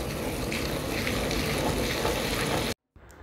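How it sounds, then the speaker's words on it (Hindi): Heavy, steady gush of running water rinsing a car AC cabin filter, loud and continuous for nearly three seconds before cutting off abruptly, followed by a faint trickle; no talking. "अच्छी तरीके से इसे रिंस करना है विद प्लेंटी ऑफ वाटर।"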